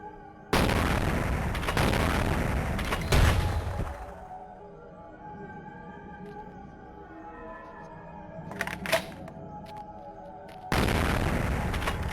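Booming .44 Magnum gunshots in Vampire: The Masquerade – Bloodlines, with a loud sustained blast at the start, another heavy burst around the middle and a final roaring blast at the end, separated by quieter game ambience.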